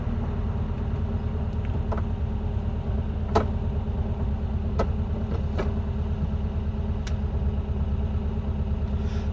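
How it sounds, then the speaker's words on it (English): A 1968 VW Type 3 Squareback with an 1835cc engine idles, giving a steady low rumble with an even pulse and a few sharp clicks. No one speaks. "Still idling good."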